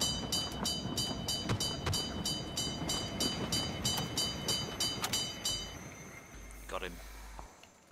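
A train rolls past in a video game with a steady mechanical rumble and rhythmic clicking that fades toward the end, heard under players talking.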